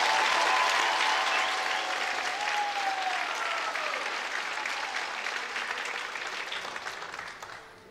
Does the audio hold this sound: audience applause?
yes